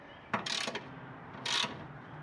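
Wrench torquing a bolt on a Corvair Greenbrier van, with two short ratcheting bursts, one around half a second long and another a second later, close and fairly loud against a quiet background.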